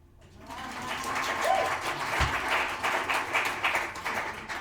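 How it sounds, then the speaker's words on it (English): A conference audience claps together in a sustained round of applause that builds quickly and carries on without talk over it. "Can I hear a clap?"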